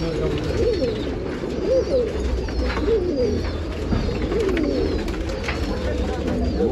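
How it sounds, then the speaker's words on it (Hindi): Desi pigeons coo at a rooftop loft in Nashik, Maharashtra. Several birds make soft, overlapping rolling coos throughout, close and fairly loud, with faint chirps in the background and a low hum beneath. "नहीं, घर का ये देसी कबूतर है।"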